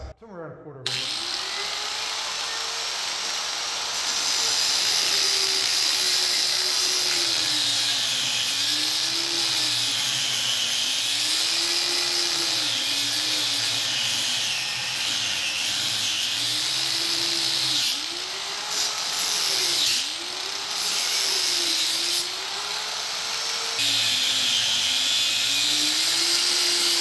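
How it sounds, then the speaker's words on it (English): A cutoff wheel slices a notch into metal for a sawhorse leg brace, making a loud, continuous high-pitched grinding whine that rises and falls steadily as the cut proceeds, close and dominant throughout. "I'm going to slice out about 1/4 inch gap with a cutoff wheel"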